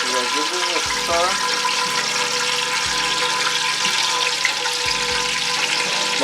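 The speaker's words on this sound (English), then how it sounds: "the ghee is melting here. So I give it a stir." Ghee melting in a pan and being stirred, with a soft steady sizzle and a few scraping strokes of a spoon, close by, under faint background hum.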